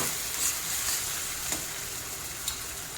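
Vegetables for pav bhaji sauté in a hot pan, giving a continuous soft sizzle and hiss with faint stirring scrapes and a couple of brief clinks, heard close and alone.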